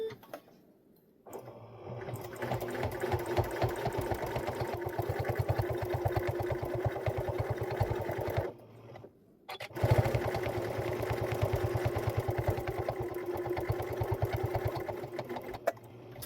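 A sewing machine stitches back along a seam of a quilted cuddle kit with batting, running in a fast even whir for about seven seconds, pausing briefly, then resuming for several more seconds, close and alone.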